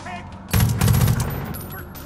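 A mounted turret machine gun in Far Cry 5 opens up after a quiet moment, a rapid, loud burst of automatic fire that rattles on for about a second before tapering off.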